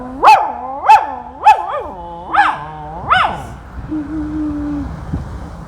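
A big dog barks loudly and close by, five sharp barks in a steady rhythm, followed by a quieter drawn-out whine.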